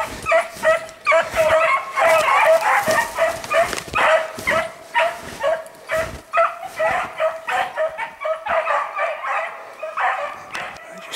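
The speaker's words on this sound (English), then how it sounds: "Dogs are coming right behind him." Beagle harehounds bay and yip in a loud, continuous chorus while chasing a hare outdoors, with overlapping barks and a steady cry close by.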